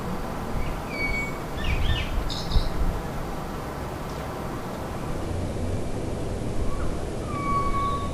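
A blackbird mimics R2-D2 with faint, brief whistled chirps and bleeps scattered across a field recording. A steady hiss of background noise partly covers the calls.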